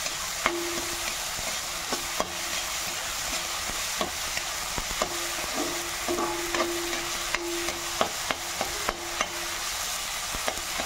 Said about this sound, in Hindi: अभी प्याज डाल दिया मैंने इसमें